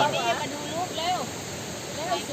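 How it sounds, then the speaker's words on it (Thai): A tiered waterfall at Tat Kuang Si in Laos gives a steady rushing wash in the background while someone talks over it throughout. "น้ำตกก็จะเป็นชั้น ๆ ครับ น้ำจะสีเขียวนะครับ"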